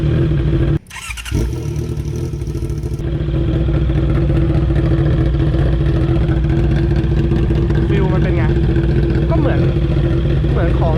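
A Honda CB650R with a custom MotoGP-style exhaust cranks and fires up, then settles into a loud, deep, steady idle close by, with a voice talking briefly over it.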